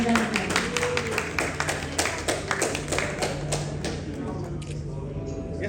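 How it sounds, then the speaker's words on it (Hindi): Audience applause for an ambassador at an excellence awards ceremony: a steady run of sharp, close claps and taps at an even pace, fading slightly toward the end. "अब आप चाहूंगी जोरदार तालियां यहाँ पे एम्बेसडर डॉक्टर सनिपिना जयलक्ष्मी राव जी के लिए"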